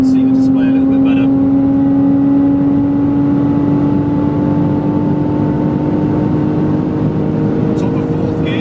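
A BMW Z4 in sport mode pulls hard past 100 mph, its engine note a steady, loud drone climbing slowly in pitch with constant road and wind roar underneath, heard from inside the car.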